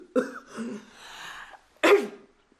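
Two sneezes from a person with a terrible cold, the first a drawn-out voiced sneeze and the second a short sharp burst a moment later, close and loud.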